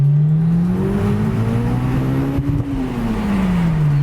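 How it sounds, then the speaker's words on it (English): A 406-horsepower turbocharged Honda S2000 pulls hard at full throttle, its engine note climbing steadily in pitch for a few seconds before easing off, loud and continuous with no speech. "So we'll go ahead and do one more pull. As you guys can go feel it. So we'll go ahead in 3, 2, 1, full throttle."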